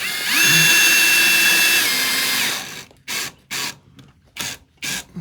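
A power drill whirs steadily for a few seconds as it drives stainless steel screws into timber cladding, then slows and stops, followed by several short bursts of drilling.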